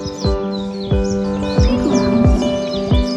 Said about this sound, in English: The birds singing in the background